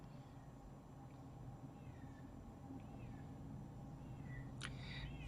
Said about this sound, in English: I hear a meowing kitty outside.